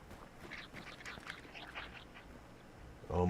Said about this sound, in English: Almost set off those ducks.